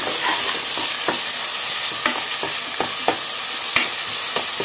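Chicken masala is stirred in a frying pan with onions, giving steady loud sizzling and repeated rhythmic scrapes and taps of the spoon against the pan, close up and without any voices.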